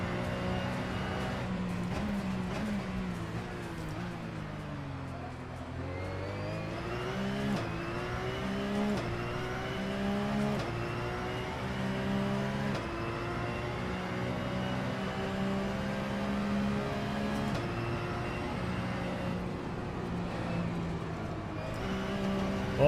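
Racing car engines in Assetto Corsa drone and rev steadily for the whole stretch, with pitch rising and dipping through gear changes. Several cars run close together with a constant, moderately loud whine and no talk over it.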